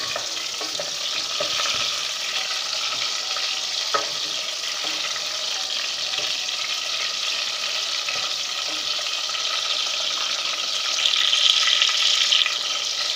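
Onions sizzle steadily in a pan, halfway through frying for a potato and onion sabzi, with a dense, even hiss throughout and a few light clinks of stirring; no one speaks.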